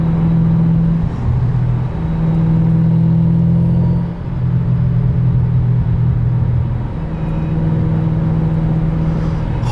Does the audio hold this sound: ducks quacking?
no